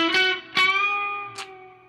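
Sustained electric guitar notes through an overdrive pedal with a gritty tone, a few plucked attacks ringing out and slowly fading.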